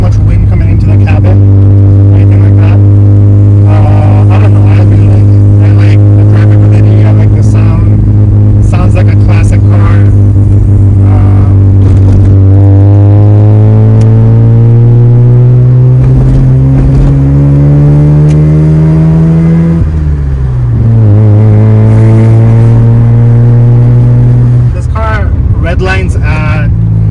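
A modified Mazda FB RX7 rotary engine heard loud and close, a deep droning hum that climbs steadily in pitch as it revs to 7,000 RPM, then drops off, with talk over the engine.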